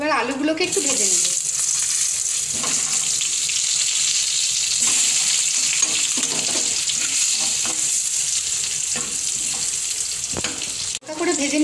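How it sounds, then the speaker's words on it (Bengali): Potatoes frying in oil for an egg masala curry give a loud, constant sizzle that fills the whole stretch, with occasional stirring and no voices on top. "এবার আলুগুলোকে একটু ভেজে নেব।"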